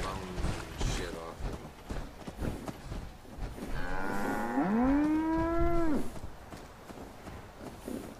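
Cows in the video game Fallout 4 give a long, drawn-out moo that rises and falls, loud and close, over game sounds and footsteps, with a person talking before and after.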